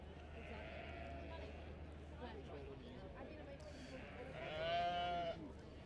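Sheep bleat at an agricultural livestock show, a couple of wavering calls rising over steady crowd murmur and nearby talk, the louder bleat coming near the end.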